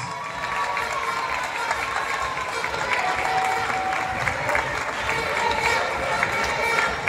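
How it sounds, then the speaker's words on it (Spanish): Crowd applause welcomes a football club at a team presentation for an agricultural cup tournament, a steady wash of clapping from a large audience lasting throughout, with faint cheering and background voices mixed in. "Recibimos ahora con otro fuerte aplauso a una institución del fútbol en Sarasa"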